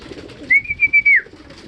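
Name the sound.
racing pigeons cooing during training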